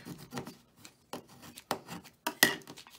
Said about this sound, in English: Turn that over, give it a good scrape